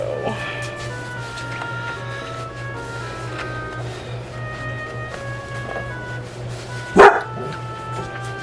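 A single sharp dog bark cuts in near the end, standing out over a low steady hum and faint indoor background noise.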